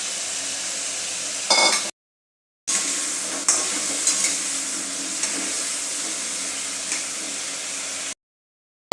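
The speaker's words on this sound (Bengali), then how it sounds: "এবার আমরা চিকেনটা তুলে নিয়ে ওই তেলে আলুগুলো ভেজে নেব।" Potatoes fry in the hot oil left after the chicken was cooked, giving a loud, steady broadband sizzle with a few crackles and stirring sounds, broken by two short gaps of silence.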